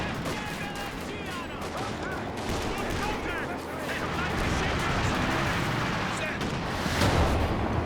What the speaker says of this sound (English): It's the AP rounds.